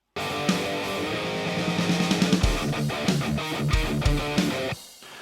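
A programmed snare drum roll plays inside a full electronic arrangement, with steady rapid hits over bass notes and chords before cutting off near the end.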